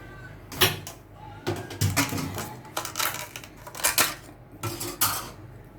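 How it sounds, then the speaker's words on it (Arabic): Two cups of yogurt are emptied into a bowl in a home kitchen, giving a run of clattering, tapping knocks of plastic cups and utensils against the dish, close and irregular, with no talk. "كوبايتين زبادي اهو، افضيهم كده"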